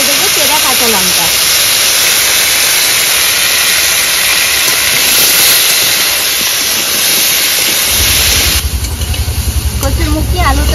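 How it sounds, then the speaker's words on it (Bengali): Thangra fish frying in hot oil with salt and turmeric, a steady loud hiss and sizzle filling the whole stretch, shifting to a lower bubbling rumble near the end. "একটু লবণ আর হলুদ দিয়ে ভেজে নেব।"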